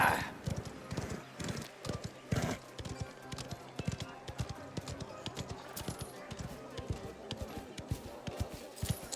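Horse hooves gallop in a rapid clip-clop rhythm during a horse race in the video game Mafia: The Old Country, loud and continuous with a brief whinny, under excited game dialogue and a voice talking over it.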